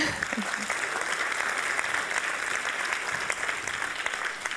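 A conference audience applauds a band at a European university opening event, with steady, dense clapping from a large crowd throughout and no break.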